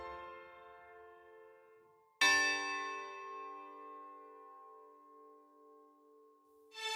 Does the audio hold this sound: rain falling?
no